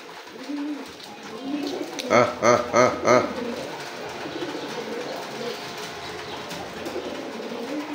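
A rain-wet pigeon coos in a short burst of four or five rhythmic, throaty notes, close and clear over a background of rain hiss and faint distant voices.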